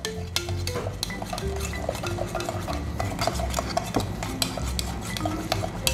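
A spoon stirs cacao in a cup to dissolve it for an iced cacao latte, with continuous scraping and clinking against the cup, close and steady throughout.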